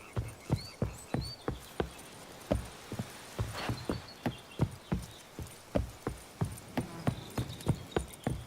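Roach the horse's hooves clip-clopping in The Witcher 3: Wild Hunt, a brisk, regular run of close hoof strikes over a soft bed of insect and cricket chirps, with no voices.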